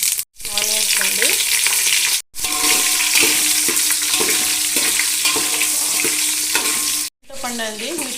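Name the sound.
mustard seeds, cumin and onions frying in hot oil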